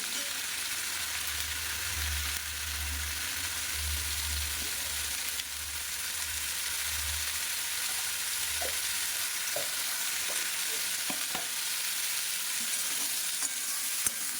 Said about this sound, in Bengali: একবারে ফুলকপি কুমড়ো সব ভেজে নিচ্ছি